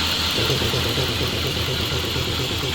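A ZIL truck engine idles with a low rumble and a constant hissing, whirring compressor noise layered on top, loud and continuous throughout.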